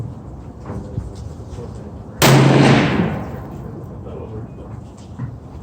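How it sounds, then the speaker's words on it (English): A single sharp shot from a Thompson Center Venture .308 rifle fired at a target, a sudden loud broadband crack with a short decaying tail, standing out from steady outdoor background noise. "I'm gonna be squeezing off 2 rounds into the bottom target to make sure we get everything inside it"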